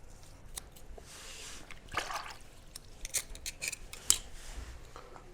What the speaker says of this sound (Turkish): Tabi daha iyi kese bir makasınız olsun.